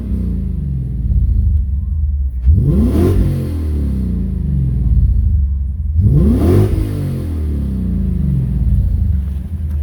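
A 2008 Lexus IS-F engine rumbles steadily, then revs up twice in quick rising sweeps, loud and close, settling back to a low idle between bursts.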